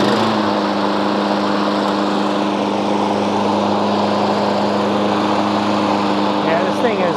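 Snapper NXT walk-behind lawn mower engine running steadily at close range, a loud continuous drone with a strong low hum that holds level throughout, with faint voices underneath.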